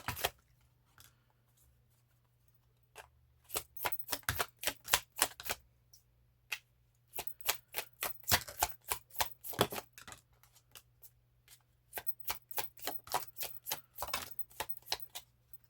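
Tarot cards being riffled and flicked in quick rapid bursts, crisp and close, with short pauses between runs of snapping.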